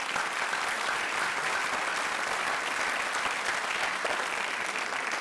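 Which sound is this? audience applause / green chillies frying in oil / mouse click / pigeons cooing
audience applause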